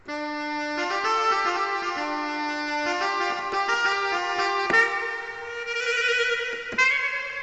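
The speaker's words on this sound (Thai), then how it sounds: "เสียงที่ 6 เป็นเสียงแซกนะครับ" A Korg PA-700 keyboard plays a sustained melodic line in its bright, reedy saxophone voice, with held notes and occasional chord changes; no talking.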